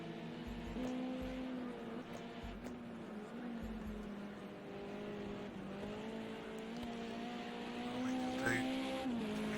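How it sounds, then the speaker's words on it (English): A touring car in a racing video game drifts through a corner at Donington, its engine note holding a steady droning tone with a faint tyre squeal, heard beneath continuous commentary. "The car does love a drift through that corner."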